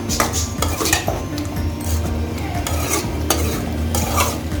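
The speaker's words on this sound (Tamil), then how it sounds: "நம்ம அப்பப்போ கொஞ்சம் கிண்டி விட்டுறோம், இல்லைன்னா அடி பிடிச்சிடும்." Onions frying in oil in a cooking pan, stirred with a utensil: a steady loud sizzle runs throughout while a spoon scrapes and clinks against the pan in repeated strokes, with no talking.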